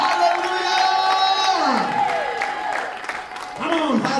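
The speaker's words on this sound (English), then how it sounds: "Now give Jesus a shout and a praise with a clap of hands." A church congregation cheers, shouts and claps in praise. The crowd noise is loud and lively and runs through the whole clip, with voices rising and falling.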